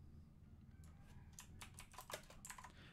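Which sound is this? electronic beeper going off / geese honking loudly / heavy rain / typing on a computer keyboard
typing on a computer keyboard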